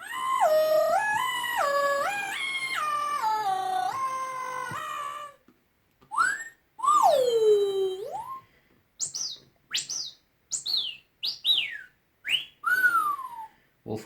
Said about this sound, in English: Wolf whistle.